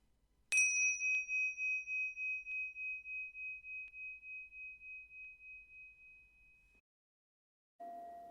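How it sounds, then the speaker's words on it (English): A single meditation bell struck once, ringing a clear, pure tone that pulses and slowly fades over about six seconds in a quiet room. "when you hear the bell, focus your attention on the bell"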